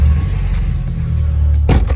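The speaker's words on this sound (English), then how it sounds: "go ahead and start up the wheelie mobile" A 2010 Mazdaspeed 3 engine starts up and settles into a steady, close, low rumble, with a short swell in the last quarter second. No one speaks.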